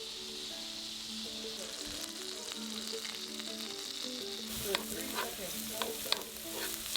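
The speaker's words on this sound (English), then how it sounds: "We got sizzling balls." Meatless meatballs and onion sizzle in olive oil in a pan, a steady close frying hiss with a few stirring clinks and scrapes toward the end, no talking.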